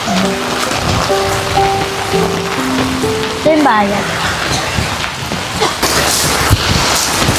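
Heavy rain hisses steadily and loudly throughout, a dense wash of noise beneath background music and brief speech.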